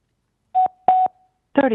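Two short electronic telephone tones from a phone being dialed during a call-in public hearing, clear and close against silence, followed by a brief voice.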